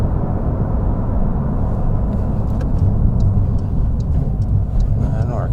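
Inside a 2023 Porsche 911 Sport Classic while driving, a steady engine and road rumble fills the cabin, with faint clicks as gears are shifted and a voice talking over it.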